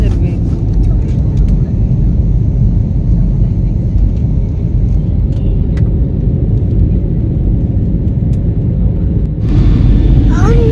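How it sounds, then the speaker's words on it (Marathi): Airplane engines build to a heavy, steady rumble for takeoff, heard from inside the passenger cabin. The drone stays loud and constant throughout, with faint voices underneath. "इथे शर्विल पुढे बसलेल्या पॅसेंजरला सांगत होता की आता प्लेन चालू होणार आहे, तू धरून ठेव."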